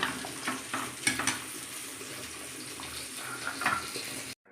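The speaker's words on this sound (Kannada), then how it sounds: "ಮೀನು ಫ್ರೈ ರೆಡಿ ಆವೊಂದುಂಡು" Fish frying in a pan, a continuous close sizzle with occasional louder crackles and stirring scrapes, ending abruptly.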